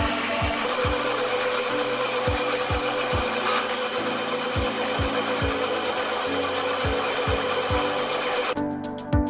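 A blender grinds roasted coconut with cooking oil in a loud, continuous motor whir, with regular low knocks as the pieces churn, running steadily throughout until it stops near the end.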